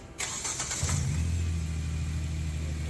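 A Cummins diesel engine cranks and fires up, then settles into a steady, loud low idle drone that runs alone without any talk.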